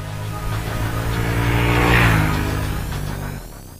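Honda Africa Twin CRF1000L motorcycle from 2016 riding along, a steady engine drone with harmonic bands that swells and peaks midway, then eases off near the end.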